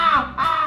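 A human voice imitates the caw of a crow that has hit a wall, a single short, harsh, nasal caw with a slight dip in the middle, heard alone and close.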